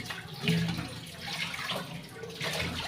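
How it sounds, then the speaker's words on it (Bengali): Dishes being washed with soap under a running tap after tea, a steady close stream of water with small splashes and clinks of crockery, with no talking. "হালকা করে সাবান দিয়া ধোয়া নিতাছি, ধুয়ে নিতাছি।"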